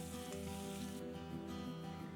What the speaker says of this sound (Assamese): এয়া মই ভাজি আছোঁ, বিলাহী আৰু পিঁয়াজখিনি ভাজি আছোঁ